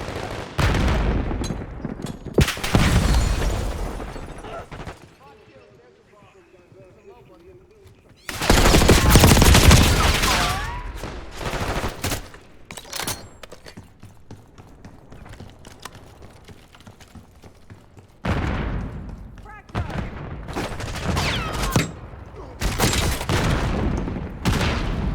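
Call of Duty: Black Ops 6 multiplayer gunfire: loud bursts of rapid automatic shots in several clusters, with quieter gaps between them.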